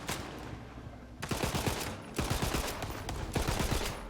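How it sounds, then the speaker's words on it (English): Burst-fire gunshots from a weapon in the video game Tiny Tina's Wonderlands come in three rapid clustered volleys, each a quick string of sharp cracks, fairly loud and close with brief pauses between bursts. "that burst fire is weird"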